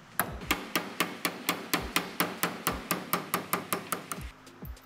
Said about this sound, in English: I'm gonna take an 1/8 inch punch. I'm just gonna drive this roll pin